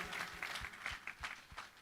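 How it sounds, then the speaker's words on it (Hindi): An audience at a live government event in Dewas breaks into scattered clapping, a brief, faint patter of hands heard from some distance, without talking over it. "अरे देवास की ताली बजाओ,"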